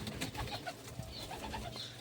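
Pigeons cooing softly nearby, a low murmuring coo repeating over about two seconds with faint background rustle.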